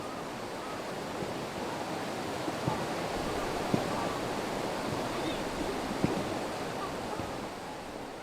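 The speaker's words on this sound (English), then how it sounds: "you can hear the water and you can see the water flow" Water rushes continuously in a broad, steady wash, with no pauses and occasional faint clicks.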